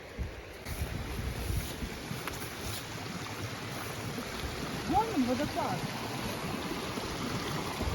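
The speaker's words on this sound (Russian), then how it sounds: "Вон он, водопад." A forest waterfall's steady rushing water roars continuously, with wind buffeting the microphone and faint voices underneath.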